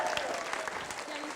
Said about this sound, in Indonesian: tepuk tangan dong keluarga Nelly Agustin.